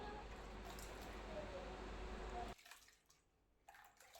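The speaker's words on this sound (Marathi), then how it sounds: "एक एक डाळ मी चांगली घासून स्वच्छ धुवून घेणार आहे" Soaked moong dal lentils are rubbed and washed by hand in water, giving a steady wet sloshing and swishing for a couple of seconds before it drops to quieter, sparse handling sounds.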